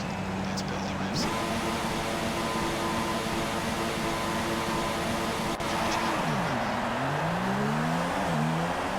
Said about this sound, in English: Feed in the throttle. Let's build the revs.